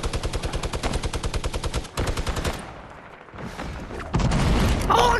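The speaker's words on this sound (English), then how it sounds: "I randomly threw grenades at him and killed him." Fortnite gunfire and grenade blasts: a loud rapid burst of repeated shots for about two seconds, then a brief lull, then a heavy booming explosion rumbling to the end, no talk.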